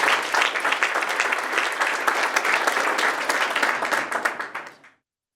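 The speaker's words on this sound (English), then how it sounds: "One more round of applause for Smith." Audience at a software startup cohort showcase applauds a presenter, a dense sustained wash of many hands clapping that holds steady for about four seconds before tapering off and ending.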